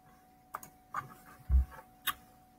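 Four separate, quiet keystrokes tap on a computer keyboard in a slow, uneven rhythm over a faint background hum.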